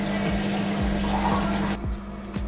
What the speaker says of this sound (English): I need to wash this off.